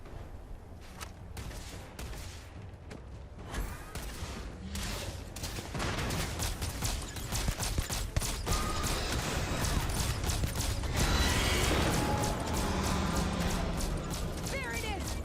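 Rapid, dense gunfire crackles through a Starfield firefight, shots coming in fast overlapping bursts that build and hold at steady loudness, with voices speaking over the shooting.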